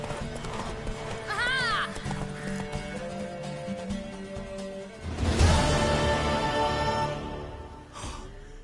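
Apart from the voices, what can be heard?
horse galloping in video game The Witcher 3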